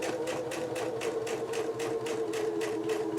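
A sewing machine runs at a quicker pace while quilting a diamond quilt, giving a steady, rapid run of stitching pulses with a constant motor hum, close and alone.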